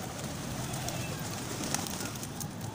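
Racing pigeons outdoors in the evening, soft cooing under a constant hiss of background noise, faint and steady throughout.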